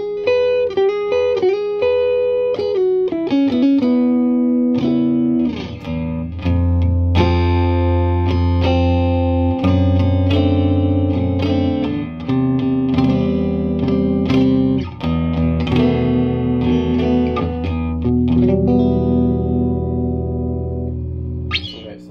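Electric guitar played through a Celestion Alnico Blue speaker, with forward mids, a continuous loud passage of picked notes and sustained chords with no talking.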